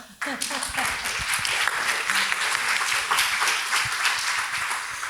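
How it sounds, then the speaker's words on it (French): Audience applause at a conference, steady clapping from a crowd starting abruptly and continuing throughout, fairly close. "Merci de l'applaudir."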